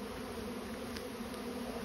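Bees swarming at the entrance of a bait hive make a steady, dense buzzing hum that stays close and constant throughout, with no voices.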